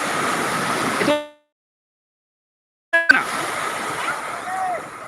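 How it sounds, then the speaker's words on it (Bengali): Big ocean waves crash onto a beach at evening, giving a broad rushing surf wash that cuts out entirely for about two seconds before returning. A faint voice is heard under the roar. "বড় বড় ঢেউ আশ্রে পড়ছে"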